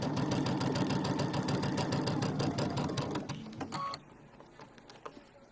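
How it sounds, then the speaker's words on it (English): A sewing machine stitches a quarter inch seam in a quilt block, a fast steady mechanical chatter that slows and stops near the end, followed by a few faint handling clicks. "we're going to do our quarter inch seam"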